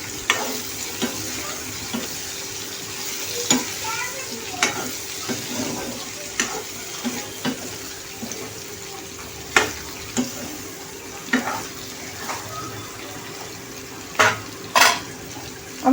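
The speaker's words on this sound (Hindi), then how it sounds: "अब हम इसे मिला लेंगे अच्छे से।" Bitter gourd curry with tamarind stirred in a pan over a soft continuous sizzle, with irregular sharp clacks of a spoon striking the pan rim throughout, close and without speech.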